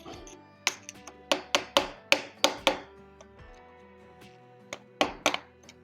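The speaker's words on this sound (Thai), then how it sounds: "แค่ไขควงตอกตอกออก" A hammer strikes a screwdriver to knock a part out of an old, rusty water pump. About seven sharp metallic taps land in a quick, steady rhythm, then a pause, then two more close strikes, loud and near.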